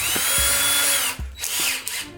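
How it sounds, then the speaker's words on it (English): A power drill pre-drilling a hole whirs at high speed, then briefly cuts out and revs again in short bursts, close and loud. "is you're going to put your drill bit in, line it up with the pre-marked hole"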